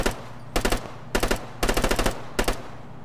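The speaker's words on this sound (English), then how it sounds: "Take a couple shots at it before we blow the shit out of it." Bursts of automatic gunfire at a jeep in Arma 3, rapid rattling volleys in four short strings separated by brief pauses, loud and close with no talk.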